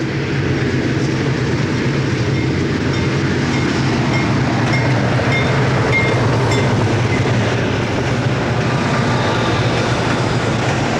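An Erie Lackawanna westbound freight train, the 1975 TC3, rolls down the grade at Gouldsboro with a loud, steady rumble and clatter of wheels and cars that fills the whole stretch without a break.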